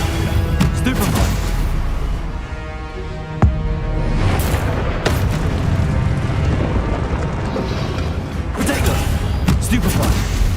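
Spell blasts fired in the Hogwarts Legacy video game: repeated sharp cracks and booming bursts over a continuous loud wash of combat noise, steady throughout with a few stronger hits.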